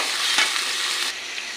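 Spices, onion and garlic fry in a pan for a ghugni made with mutton fat, giving a close, steady sizzle with a slight stirring scrape partway through.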